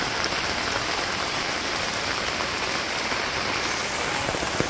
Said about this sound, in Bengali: সুন্দর বৃষ্টি হয়ে